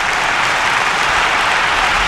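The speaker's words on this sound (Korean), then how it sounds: "수만 명이 일제히 기립해 덩샤오핑을 향해 뜨거운 박수를 보냈다고" Tens of thousands of people stand and applaud Deng Xiaoping, a loud, dense, continuous wash of clapping from a huge crowd that fills the whole stretch.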